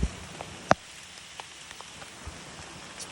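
Heavy rain pours down during a thunderstorm with lightning, a steady dense hiss throughout with one sharp nearby knock early on and a few faint drips or taps.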